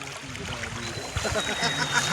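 Floodwater surges and laps through a village near Dera Baba Nanak, a churning, gurgling flow heard close by, with voices faintly mixed in.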